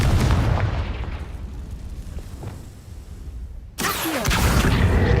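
A Confringo fire spell in the Hogwarts Legacy video game bursts loudly with a roaring, crackling blast that fades, then a second sharp explosion hits near the end.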